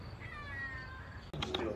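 A cat meows with a drawn-out wavering cry, followed by a few short harsher calls, fairly close over a steady background hum.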